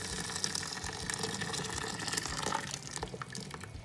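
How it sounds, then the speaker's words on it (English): Boiling water pours from a kettle over a nest of dried rice noodles, a continuous splashing gush that runs for a few seconds at a close, fairly even level. "We're going to take this nest of rice noodles, pour the boiling water on it,"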